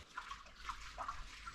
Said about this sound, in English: it's the dog splashing around in the puddles